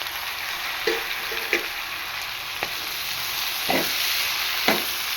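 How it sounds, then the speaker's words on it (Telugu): Tomatoes and capsicum fry in a pan with a steady, close sizzle, broken by about five brief scraping stirs at irregular intervals. "సో టమాటా వేసుకుంటున్నాను."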